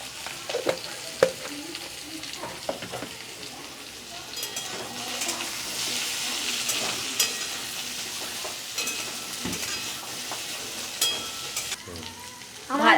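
Potato and pumpkin pieces frying in a kadai, a continuous sizzle with repeated clinks and scrapes of a spatula stirring, moderately loud and close, with brief faint voice at moments.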